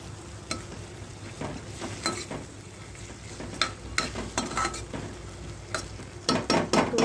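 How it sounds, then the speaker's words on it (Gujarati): A green pigeon pea and eggplant curry is stirred in a pan, with soft sizzling under a string of scraping and clacking spoon strokes, clearest near the end. "અને આને હવે આપણે મિક્સ કરી લઈશું."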